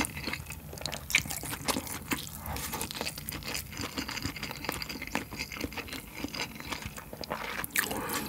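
Close, crunchy chewing of a truffle-flavoured whole can of Spam eaten with rice, with wet, clicky bites and mouth sounds repeating steadily and no talking.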